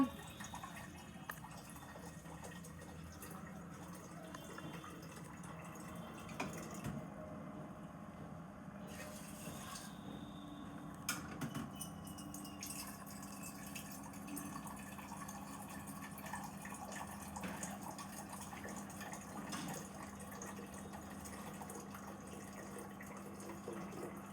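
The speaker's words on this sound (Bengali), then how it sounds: "এবার অ্যাকোয়াগার্ড থেকে আমরা জল নিচ্ছি" Water runs steadily from an Aquaguard purifier into a pot, a faint continuous trickle with a few light knocks in a quiet kitchen.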